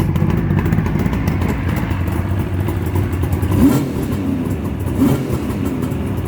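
A freshly rebuilt motorcycle engine with balanced carburettors idles steadily and smoothly at close range, a constant rumbling putter with slight fluctuations and no talking.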